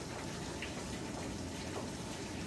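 Hot water runs from a tap at a washer and dryer hookup, a faint, steady splashing hiss heard without any talking.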